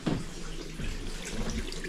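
Hot tap running in a cheap bed-and-breakfast hotel room, a steady close hiss of flowing water into a sink, continuous and unbroken for the whole stretch with no talking over it.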